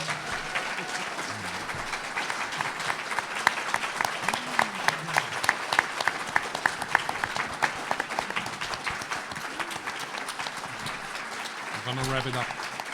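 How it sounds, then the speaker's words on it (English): An audience at the Secret Space Program Conference round-table gives the speakers a steady round of applause, dense clapping that carries on throughout with a few voices over it. "Let's give them a huge round of applause."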